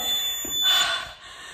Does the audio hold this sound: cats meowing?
no